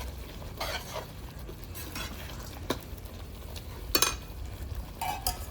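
Fried aloe vera pieces are roasted in spice masala in a pan, with a steady soft sizzle broken by intermittent scrapes and clinks of a spatula against the metal, close and moderately loud.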